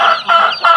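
A pet chicken clucking up close, three loud nasal clucks in quick succession within under a second, no talking.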